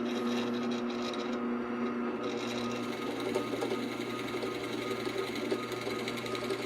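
A spindle machine set to its lowest speed of 620 rpm cutting into wood, a steady close mechanical whir with a low hum and faint rattling, continuous and loud throughout with no talking.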